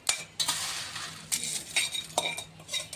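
Chivda ingredients tossed and mixed in a pan with a metal spoon, giving several bright clinks and scrapes in an irregular rhythm, close and moderately loud, with no talking.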